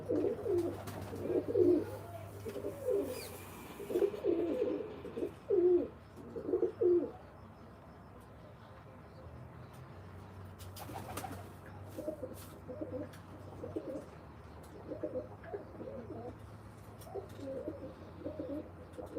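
Pigeons coo in a Malwa pigeon loft, with a run of close, throaty rolling coos at first, then softer, steady cooing from several birds continuing in the background.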